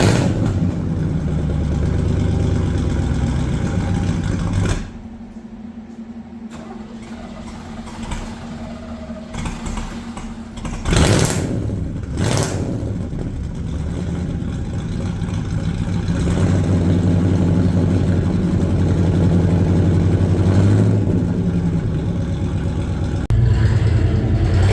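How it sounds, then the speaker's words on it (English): A pickup truck engine starts cold and idles loudly, then drives into a garage, its low rumble dipping briefly before building steadily again with a few sharp clunks along the way. "enjoy this little cold start video of getting the truck in the garage"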